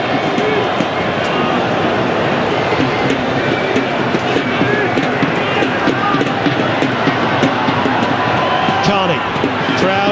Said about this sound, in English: Crowd urging the green and gold on.